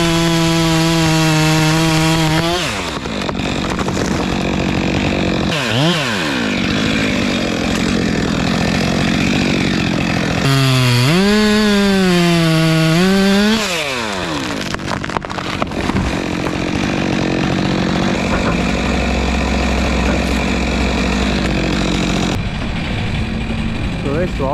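A Stihl 462 chainsaw felling a tree on a UK site clearance job, its engine revving and dropping in loud, close bursts over continuous cutting and wood noise, with a voice speaking at times.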